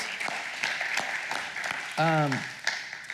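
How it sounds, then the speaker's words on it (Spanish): Church congregation applauding, a steady wash of clapping that carries through the whole stretch, briefly overlapped by a short sung or spoken tone partway in. "Le podemos dar un aplauso al Señor por la vida de nuestros pastores."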